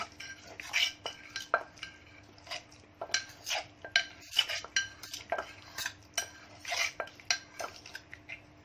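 Ingredients for a Thai eggplant and salted egg chili dip are stirred together, producing repeated clinking and scraping of a utensil against a bowl in an irregular rhythm, close and fairly loud, with no talking.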